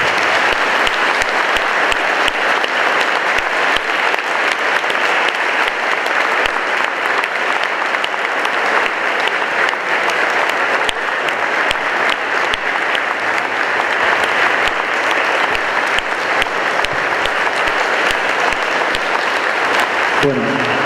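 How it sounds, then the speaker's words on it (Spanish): Sustained, loud applause from an audience at a book presentation, with dense, even clapping from many people that keeps going for about twenty seconds. "pedir un fuertísimo aplauso"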